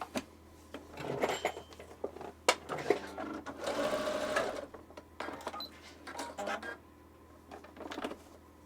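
A sewing machine runs in short bursts while a repaired bobbin case thread cutter is tested, with clicks and clatter of parts being handled between the whirring stitches, recorded up close.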